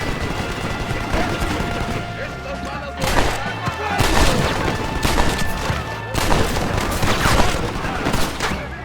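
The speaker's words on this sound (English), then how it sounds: "They have a machine gun!" A Red Dead Redemption firefight during the attack on the Allende mansion: dense, loud gunfire with rapid bursts and heavy booms, continuous throughout, with shouting voices mixed in.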